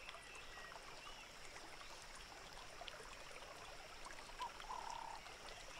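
A Table Mountain ghost frog calls by a perennial mountain stream, the faint water trickling steadily while a soft croak surfaces near the end.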